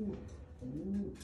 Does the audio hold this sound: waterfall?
no